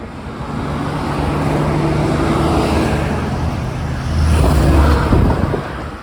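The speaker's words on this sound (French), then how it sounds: "C'est une route assez fréquentée." Continuous traffic with trucks rumbling past on a busy road in Colombia, a vehicle swelling louder near the end before fading, steady engine drone throughout.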